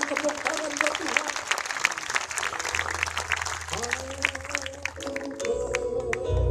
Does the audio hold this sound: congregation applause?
yes